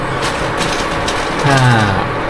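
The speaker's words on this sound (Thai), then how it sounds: "มาถึงตอนนี้มันจะมีเสียงเตารบกวนหน่อย" A steady electrical hum from an infrared stove runs under kitchen clatter and rustling while a beef burger is cooked, with a brief louder droning buzz midway and a single spoken word.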